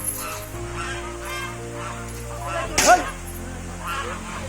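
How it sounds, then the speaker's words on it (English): A duck in the bird enclosure at Ramoji Film City gives a brief, loud honking call midway, standing out over a steady background hum and faint distant sounds. "Look at this duck."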